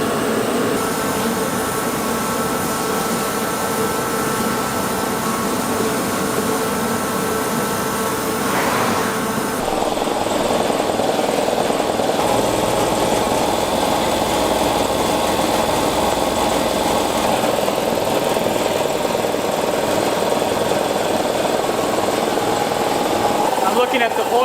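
A shop air compressor runs steadily in the background, a continuous engine-like hum and rattle that shifts slightly midway, while a person talks over it.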